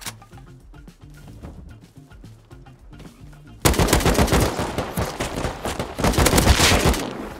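Automatic gunfire in the video game Rust during a chaotic counter-raid, quieter scattered shots at first, then a sudden loud burst of rapid, sustained fire from around the middle onward.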